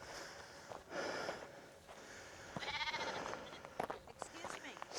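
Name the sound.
sheep bleating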